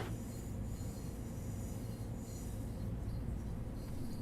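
A Long Island Rail Road train in the Train Sim World 3 simulator runs with a low, continuous rumble and faint rhythmic clatter, steady and unbroken with no talk over it.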